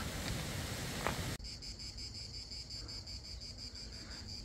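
After a burst of wind rumble cuts off, a steady high drone of cicadas pulses on and on, shrill and continuous in the heat, on a hiking trail in France.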